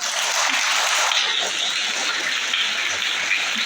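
A school audience claps in response to a question, a dense, steady wash of many hands applauding throughout, fairly loud with no talk over it.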